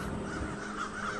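A crow caws repeatedly inside a house during a dramatised early-1900s Tongmenghui oath ceremony, its harsh calls fairly close over a steady background hum.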